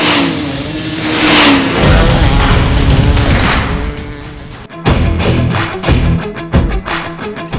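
A loud motorbike engine starts, roars and revs up, then drops back and surges again in sharp bursts of throttle, close by and unaccompanied.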